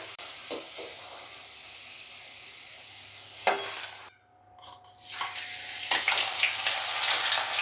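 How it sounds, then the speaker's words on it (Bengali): Garlic and green chilli frying in hot oil for a Bengali potato fry, giving a continuous close sizzle with occasional stirring clatter and a brief lull partway through. "আমি ওই রসুনটা এবারে একটু ভেজে নিলাম, লঙ্কা আর রসুন এই এটার মধ্যে করে ভাজছিলাম"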